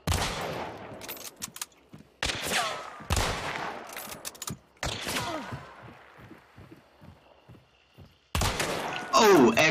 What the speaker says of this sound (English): Oh, excellent shot.